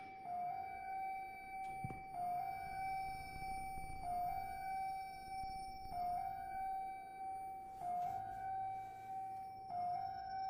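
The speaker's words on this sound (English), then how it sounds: "does your real house often have a wailing siren and an oscillating red light outside?" A wailing siren sounds outside a house inside a circus-themed game, a steady tonal wail that holds over the full stretch, rising and falling slightly and repeating in regular cycles.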